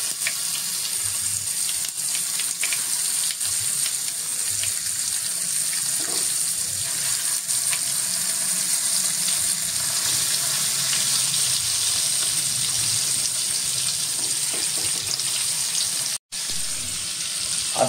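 Okra sizzles in hot oil tempering in a pan, a loud, steady crackling fry that runs continuously with faint stirring and a momentary dropout near the end.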